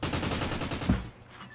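Video game gunfire in a Call of Duty: Ghosts 1v1 match, a dense rattling burst of rapid shots with one heavier report near the end before it cuts off, close and fairly loud.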